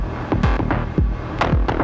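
Rhythmic reverb pumping under an LFO, ducked by a sidechain in Ableton: a thick electronic wash that swells and dips about once a second, with repeated deep downward-sweeping thumps. Loud and steady, no voices.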